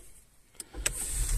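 Engine of a 2021 Skoda Kamiq with DSG gearbox starting inside the car: near-silence, a couple of short clicks, then the engine catches and settles into a low steady idle hum.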